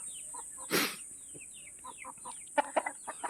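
Rhode Island Red and Barred Plymouth Rock breeder chickens cluck and chirp in short, scattered calls, with one louder squawk early on and a quick burst of clucks near the end, fairly close by.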